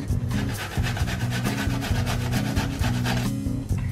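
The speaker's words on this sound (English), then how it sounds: "I use this side of the grater and shred this red beet." A red beet is shredded on a hand grater in rapid, even strokes, giving a close, continuous rasping scrape with a regular rubbing rhythm and no voices.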